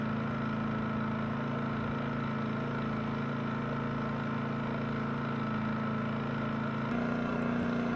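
Champion 4000-watt dual fuel generator running at about 340 watts, heard from roughly 23 feet away: a steady, low engine drone with a constant hum that holds throughout, shifting slightly near the end.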